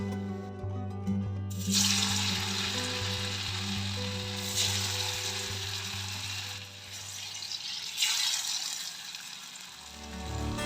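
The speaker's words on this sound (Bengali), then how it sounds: "বাকিগুলো ভেজে নিচ্ছি সবগুলো ভেজে নিয়েছি" Pieces of banana stem sizzle steadily as they fry in hot oil on medium heat, a continuous close crackle with a low hum beneath it.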